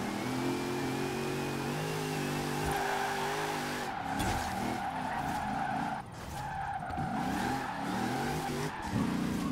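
A police car in the racing game Forza Horizon 4 drifts with long tire squeals over a revving engine, the screech sustained and wavering as the car slides, loud and close with no talk.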